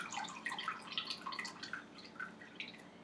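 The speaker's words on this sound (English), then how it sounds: "And then I'm going to drain my water out." Water drains out through the lid of a glass sprouting jar into a sink, a close, steady run of trickling and dripping splashes with no voices.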